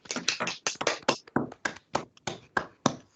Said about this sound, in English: I might invite everyone to give Brianna just a quick round of applause for sharing the story.